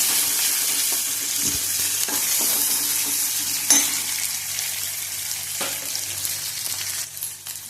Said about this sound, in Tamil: 2 பல்லு பூண்டு, தக்காளி, ஒரு தக்காளி இதெல்லாம் போட்டு ஒன்றாவே நீங்கள் வந்து வதக்கலாம்.